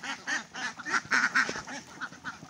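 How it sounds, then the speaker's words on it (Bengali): Confined laying ducks quack while eating feed, a rhythmic run of loud, nasal bursts from several birds close by. "যখন হাঁসগুলো ছাড়া হয়, কি সুন্দরভাবে এসে ওরা খাবারগুলো খায়"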